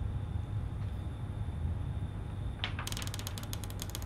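Video game house sounds at night: a low rumbling ambience, then a sharp creak followed by a quick run of squeaky, ratcheting clicks near the end, without speech.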